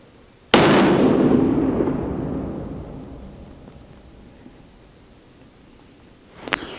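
A single loud gunshot from a Ruger M77 ultralight hunting rifle, a sharp crack with a long rolling echo fading over several seconds outdoors, followed by a faint rustle near the end.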